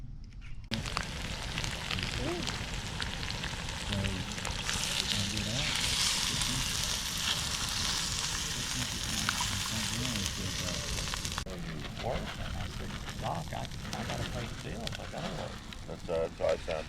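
Sausage, potatoes and onions fry in a Dutch oven at a primitive lakeside campsite, giving a steady, close hiss and crackle with a brighter, louder sizzle in the middle and faint voices underneath.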